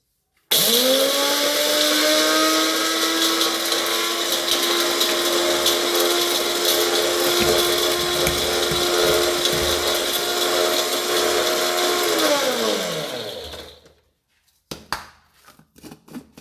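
Electric mixer jar whirring steadily for about thirteen seconds as it grinds cardamom pods with a spoon of sugar into fine powder, loud and close, then winding down and stopping, followed by a few small clicks.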